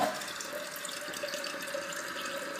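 A leaking toilet tank is flushed and refills with a steady rushing, hissing flow of water, continuous and close at moderate volume.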